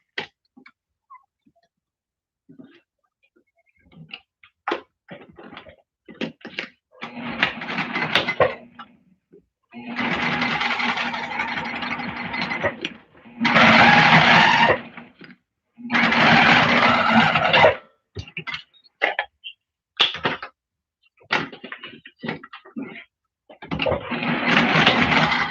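A sewing machine top stitching a fabric glasses case runs in several bursts of stitching, each a few seconds long, with short pauses and faint handling noises between them.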